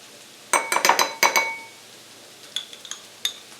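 Metal spoon clinking against glass and ceramic dishes while a tablespoon of Dijon mustard is measured out, a quick cluster of bright close taps followed by a few lighter, scattered clinks.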